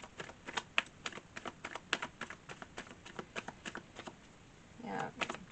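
Tarot cards are drawn and shuffled close up in a rapid run of crisp flicks and slaps, followed by a brief softer rustle near the end.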